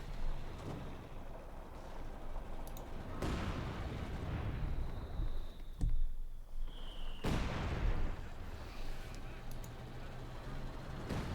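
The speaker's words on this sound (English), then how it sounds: "Mortar's continuing to duel a bit away there." Mortar fire in a Company of Heroes 2 video game battle: a few heavy booms land several seconds apart, each trailing off over a steady low battlefield rumble.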